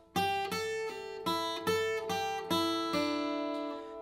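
A plucked acoustic guitar plays a short bluegrass phrase from East Tennessee Blues, distinct picked notes with a pull-off sliding smoothly into the next note, ringing clearly with no voices.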